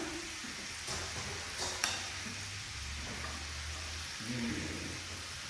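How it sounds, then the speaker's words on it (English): Drained asparagus is stirred around a hot pan, giving a soft sizzle with scattered scraping and tapping of the utensil, fairly quiet and close. "we're gonna throw our asparagus back in there, mix that around"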